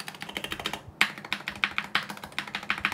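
Rapid clacky typing on a custom mechanical keyboard, keys striking in a quick steady rhythm with a metallic stabilizer-wire rattle on some presses, close and clear.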